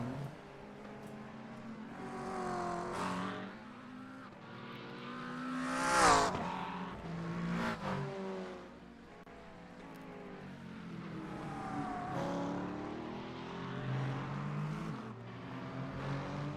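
Race car engines snarl and shift pitch through a GT sprint race in a sim racing video game, with a sharp rising whine near the middle, then steady droning under continuous game noise.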